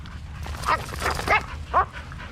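A dog named Korra gives a few short yips and whimpers at close range, three brief bursts spread over a couple of seconds against steady outdoor background noise.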